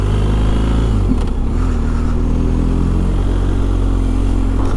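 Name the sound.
motorcycles passing on the road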